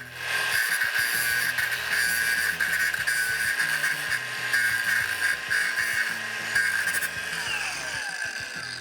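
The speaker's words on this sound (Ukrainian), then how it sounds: "Беремо нашу болгарку AG125C" A Procraft AG125C cordless angle grinder cuts into a corner seam, giving a loud, steady, high-pitched whine with harsh abrasive grinding that runs continuously for the full stretch without talk.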